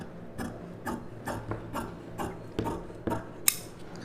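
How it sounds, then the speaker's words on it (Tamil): Scissors snip through blouse fabric while a boat-neck blouse is cut out, a soft rhythmic crunching of blades repeated about every half second, faint and close, with no talking. "இதை அப்படியே கட் பண்ணி எடுத்துக்கலாம்."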